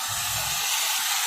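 Water hits a pan of frying ground spice paste, a loud sustained steam hiss that rushes up and holds, with a low bubbling burble under it at first.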